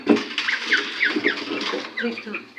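Pigeons, a female and a male, give soft cooing and fluttery calls close by, with a voice speaking intermittently over them.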